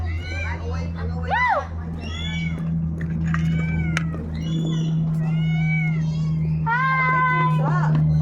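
Several cats meow repeatedly at a zoo in Pililia, Rizal, over a steady low hum, with children chattering and playing nearby throughout.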